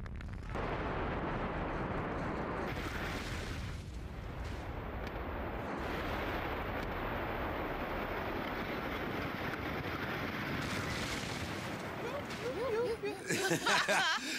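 A simulated Gunpowder Plot explosion gives a sustained, loud, broadband roar like a huge blast and eruption, rumbling for the whole stretch with a fresh burst near the end, and people talk beneath it.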